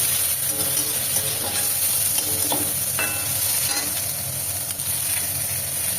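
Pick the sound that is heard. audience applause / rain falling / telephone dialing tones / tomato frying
tomato frying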